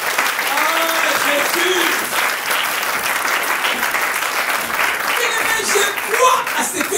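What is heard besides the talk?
congregation applauding in church service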